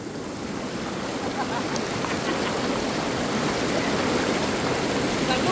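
A flooded river rushes past in a steady, loud broadband roar with no breaks, the water heard close by.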